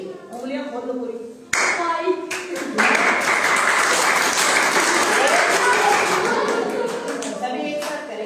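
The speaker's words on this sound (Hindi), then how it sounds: "ताली देखते हैं कौन कितनी बजा सकता है" A group at a yoga promotion session at a village health sub-centre claps as hard as they can in a contest, breaking into loud, dense, continuous clapping close by after someone speaks briefly at the start.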